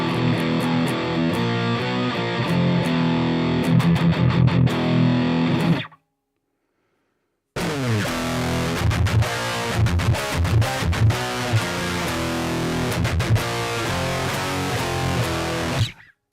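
An Artist FPC electric guitar plays high-gain distorted riffs through an iRig HD X mobile interface, loud and dense. Two long chugging phrases are separated by a brief silent break.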